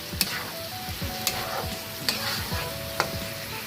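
Veg noodles with dark soy sauce, vinegar and spices being tossed in a hot pan, a close continuous sizzle broken by four sharp clanks of a spatula striking the pan at roughly even intervals, no talking.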